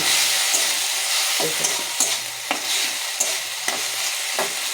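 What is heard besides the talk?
stir-frying spice paste with turmeric and salt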